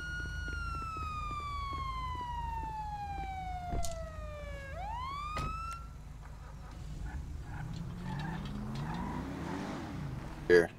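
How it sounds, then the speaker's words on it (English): A police car siren in the FivePD game wails with a sweeping tone that dips, rises sharply, then cuts off midway, leaving engine hum and quieter background sounds. "let me turn off my damn siren here"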